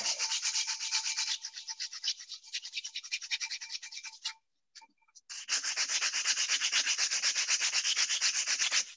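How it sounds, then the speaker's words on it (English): Steady dry rasping of sanding a carved, already-fired ceramic edge flat, close and continuous, with a brief pause midway before resuming louder. "I'll just sand that flat"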